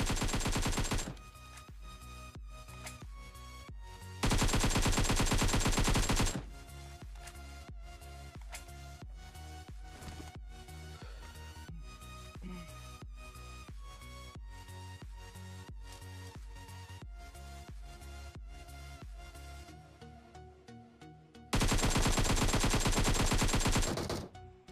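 AKM rifle fire in the mobile game PUBG: sharp single shots and rapid bursts, with two long loud sustained volleys, loud and close with no talk.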